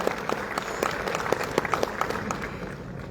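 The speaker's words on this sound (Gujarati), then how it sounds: "આપણે ખૂબ ખૂબ તાળીઓથી આ સર્જકના સન્માનને બિરદાવીએ" Audience at an Urdu academy award ceremony claps to honour an author, a steady round of applause with distinct sharp hand claps standing out over the wash, heard from within the hall without talk.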